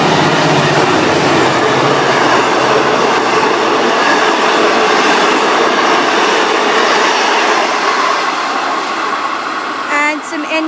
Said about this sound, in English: We've got an N-class passing. This will probably be an Albury service. N473, it's a loco.